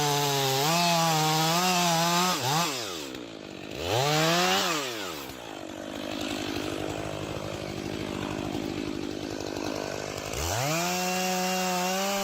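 Stihl chainsaw cutting through a big tree, its engine revving loud and close in repeated rising and falling bursts, then settling into a steady bogged-down drone while biting into the wood.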